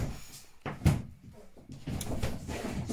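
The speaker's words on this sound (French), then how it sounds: "Donc désolée pour le bruit de porte." Indoor door opening and closing, heard as a few close thumps and knocks with some shuffling between them, with no talk.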